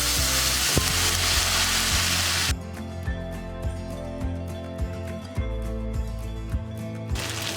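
Veg chilas fry in a pan with a loud, steady sizzle that fills the first few seconds, then drops to a softer crackle with repeated light taps and scrapes. No one speaks.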